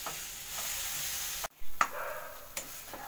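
Chopped tomatoes and spices cook in oil or ghee in a pan, a soft steady sizzle broken by a few light clinks of a stirring spoon.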